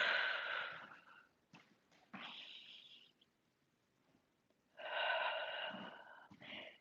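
Breath pushed out in strong, airy bursts during an exercise class, two long exhales separated by quieter pauses and short catches, close and alone without speech.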